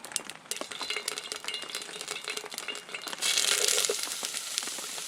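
A piece of onion drops into a hot pan at a rainy outdoor camp cook-up, where water makes the oil crackle and spit in quick irregular pops that swell into a louder, denser sizzle partway through.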